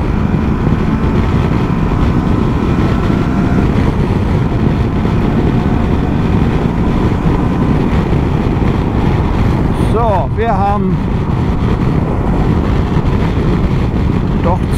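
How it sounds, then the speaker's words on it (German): Strong wind buffets the microphone outdoors, a loud rumbling roar that runs throughout, with someone briefly speaking near the end. "doch ziemlich starken Wind hier."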